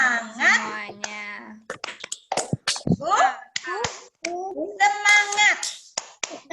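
Children in a first-grade class do a rhythmic spirit clap, sharp claps and slaps in quick patterned bursts mixed with kids' chanting voices close by, an adult voice leading in between.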